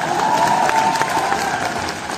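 Audience at a live comedy laughter show at a university in Bhopal breaks into loud, sustained applause with crowd cheering, a dense continuous roar of clapping filling the hall.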